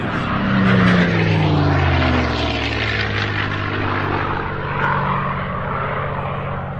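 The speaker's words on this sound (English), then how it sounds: "we'd often say it's powered by a Rolls-Royce Merlin engine" A P-51 Mustang with a Rolls-Royce Merlin engine roars past close and loud at an air show, its engine pitch sweeping downward as it passes and the drone fading slowly away.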